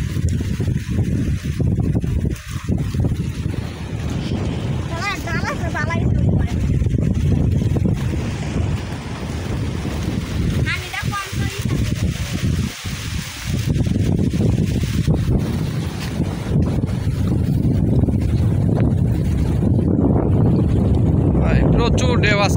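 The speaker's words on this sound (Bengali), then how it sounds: "প্রচুর ঢেউ আজকে হাওয়ারে" Strong wind and choppy waves on open water during push-net fishing, with gusts buffeting the microphone in a continuous roar and occasional voices heard faintly beneath it.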